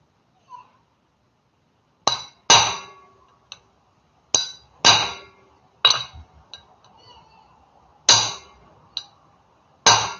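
A series of loud, sharp blacksmith's hammer strikes on metal at a forge, irregularly spaced with ringing decays and pauses between blows.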